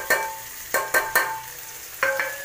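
Onion, garlic and ginger dropped into a pan after cumin for a Punjabi-style potato and ridge gourd sabzi, a few sharp sizzling bursts and scrapes of stirring in quick succession, close by and without speech.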